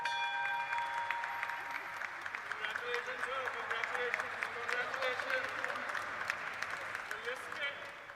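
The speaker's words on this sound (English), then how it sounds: "A nice big round of applause, ladies and gentlemen." Audience applause at a stock exchange listing ceremony for a hotel company, with dense, steady clapping over the whole stretch, loud and continuous, mixed with a few voices.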